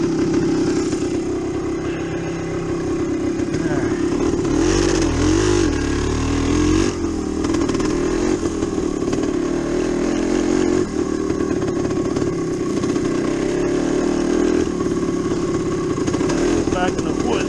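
A Yamaha DT360 motorcycle ridden through the woods on a completely flat tire: a continuous buzzing two-stroke engine note that rises and falls with throttle, close and loud, with clattering over rough ground and occasional voice underneath.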